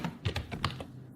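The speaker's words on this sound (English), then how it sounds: "Let's type hex." Typing on a computer keyboard while working in Rhino and Grasshopper software, a quick close run of several crisp key clicks in an uneven burst, with no talking.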